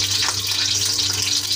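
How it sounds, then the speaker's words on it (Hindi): Spicy chicken curry with onion added, spattering and popping as water hits hot oil in the pan, a steady close hiss with crackles throughout. "पटक पटक हो रहा है उसमें पानी है"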